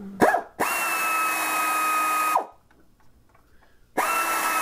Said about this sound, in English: I'm going to go around the pan and I'm going to loosen all the screws first